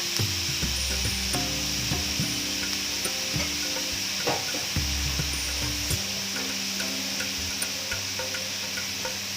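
Cherry tomatoes, about twenty of them, sizzle and fry in a pan for an arrabbiata spaghetti sauce, with a steady hiss under repeated scraping and knocking of a utensil stirring them, close and continuous.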